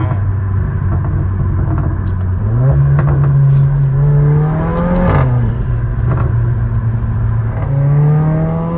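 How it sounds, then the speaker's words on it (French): Mercedes A45 Aero engine rising and falling in steady revs, a loud close droning rumble with a whirring turbo tone climbing and settling over several cycles, no talk over it. "En plus, on entend le turbo, je sais pas si t'as fait gaffe"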